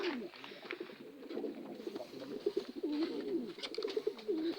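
Pigeons in a breeding loft coo softly and repeatedly, several overlapping low murmuring calls at close range with a faint background hiss.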